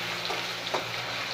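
Potatoes frying in hot white oil in a wok, a close, steady crackling sizzle over a short stretch with no talking.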